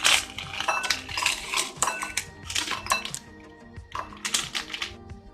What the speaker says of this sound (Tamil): இப்போ இதை வந்துட்டு நம்ம பிரிச்சு இதுல கொட்டிக்கலாம்.